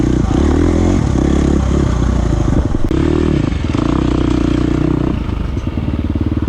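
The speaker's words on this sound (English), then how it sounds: "Here I am back on the KTM 350." A KTM 350 dirt bike races in a six-hour winter Ironman event in North Carolina, its engine loud and close with rapid revving bursts, throttle changes and clattering over rough terrain, no talking.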